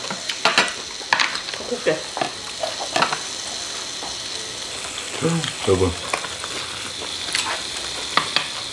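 Beef short ribs grill on a pan with a steady sizzle, while tongs and utensils clink and scrape in repeated sharp clicks and a person talks briefly over the cooking.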